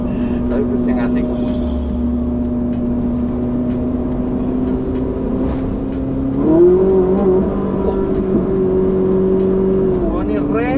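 A 2019 Ferrari sports car engine rumbles steadily nearby, then rises in pitch and volume as it revs harder partway through, with people talking over it.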